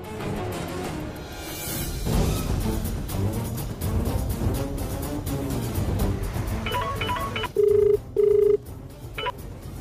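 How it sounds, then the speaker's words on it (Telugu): A telephone call is under way, and a few steady electronic tones, like ringback or dialing beeps, come in repeated short pulses toward the end, heard over background music and ambience. "దేవాగడికి ఫోన్ చేయాలి."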